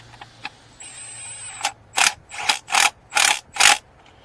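A ratchet tightens spark plugs on a Ford Fusion 1.5-litre EcoBoost engine, giving a thin whine and then about five loud, close bursts of clicking ratchet strokes in a steady rhythm.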